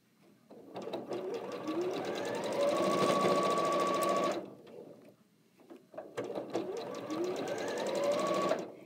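A domestic sewing machine stitches fabric in two long runs, a fast steady mechanical whir and rapid needle clatter, close by, separated by a brief pause with quiet handling sounds.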